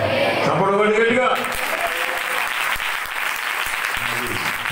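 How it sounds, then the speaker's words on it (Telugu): A church congregation claps loudly and steadily in a dense wash of applause, with a voice calling out over it at the start and near the end. "చప్పట్లు గట్టిగా"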